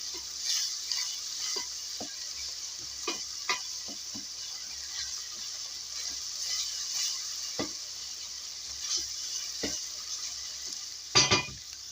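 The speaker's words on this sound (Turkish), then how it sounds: "1 yemek kaşığı domates salçası ilave ediyorum. Güzel kokusu çıkana kadar onu da şöyle 2 dakika çeviriyorum." Tomato paste sizzles in a pan with peppers and onions while being stirred, a steady frying hiss broken by scattered scrapes and taps of a spoon against the pan, ending with a brief louder clatter.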